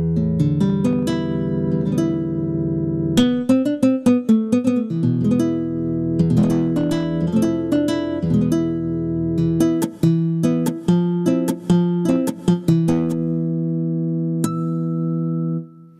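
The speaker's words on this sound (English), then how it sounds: "For example, here's a nylon guitar." A Casio CGP-700 compact digital grand piano plays its nylon guitar voice: a run of plucked notes and chords, mellow and sustained, picking up faster with quick strummed flurries before settling on a few ringing final notes, with no talking.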